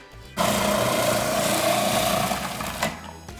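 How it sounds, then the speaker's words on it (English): A food processor shredding cabbage starts abruptly with a steady, loud motor whir and grinding chatter, near and continuous, ending with a short knock and wind-down. "Be careful not to overload your food processor as you're adding in your cabbage"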